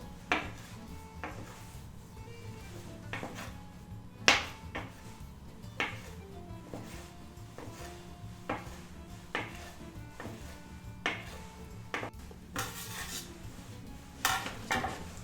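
A knife cuts floured gnocchi dough into pieces on a board, making faint, irregular taps and thuds spread across the clip with no talking.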